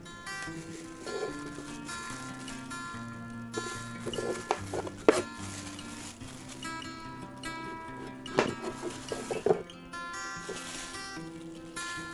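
Knife cutting dragon fruit for a decorative fruit platter, sparse soft taps and chops at scattered moments beneath steady background music, faint and close.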